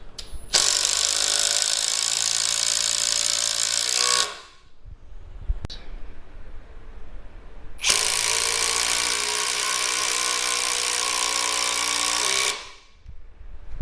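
A Ryobi single-speed brushless impact driver drives 8-inch screws in two loud, sustained bursts of about four seconds each, separated by a short pause, close up and with no talking.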